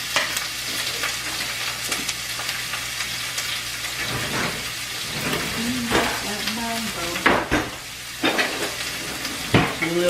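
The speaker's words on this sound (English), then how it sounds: "I have to saute that up and make the flavor pop" Onions and tomato sauté in a pot with a steady, close sizzle, broken by scraping stirs from a small spoon and occasional clinks against the pot.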